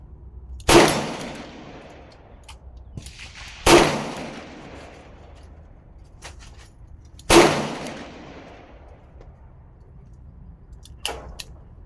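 Three loud, sharp revolver shots from a Colt Kodiak .44 Magnum ring out a few seconds apart, each with a short echoing decay, and a fainter thump follows near the end.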